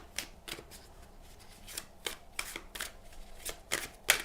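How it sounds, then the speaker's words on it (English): A deck of tarot cards shuffled by hand, a series of quick, crisp riffling bursts in an irregular rhythm, close and fairly quiet with no talking. "I want to shuffle on camera so that people can feel the energies as well"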